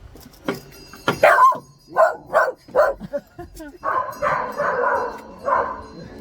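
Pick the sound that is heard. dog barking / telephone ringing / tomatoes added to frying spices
dog barking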